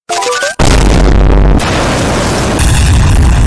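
A loud cartoon explosion boom bursts in after a few quick high electronic beeps, then rumbles on as a sustained, heavy roar that fills the rest of the moment.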